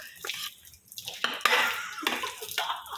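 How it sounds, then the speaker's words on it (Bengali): Khichuri being stirred in a cooking pot: close metallic scraping and clinks of a utensil against the pot, in a few uneven strokes over a soft bubbling background. "এখানে হচ্ছে খিচুড়ি, একটু নেড়ে দিই"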